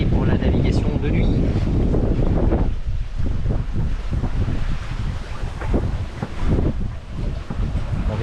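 A sailboat under way at night under the genoa alone, with strong wind buffeting the microphone over the rushing wash of water along the hull and waves slapping against it, steady and loud throughout.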